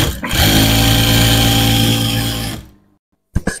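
A sewing machine stitches petticoat strips in a steady, loud motorized whir for about two and a half seconds, then winds down to silence before a couple of short clicks near the end.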